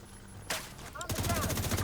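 Heavy gunfire in Rise Up Scout 2: a sudden loud burst opens a rapid rattling string of shots, with a voice cutting in briefly between volleys.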